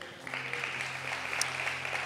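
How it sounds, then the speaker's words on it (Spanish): Audience applause for graduates at a Bible institute graduation ceremony: steady, dense clapping sustained throughout, moderately loud with a faint low hum beneath. "un aplauso para ustedes"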